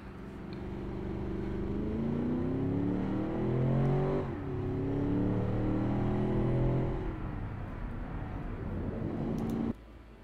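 A car laps the test track in the game Automation, its engine revving up steadily through the gears in rising sweeps, loud and close, before the note drops away at the end, with no talk.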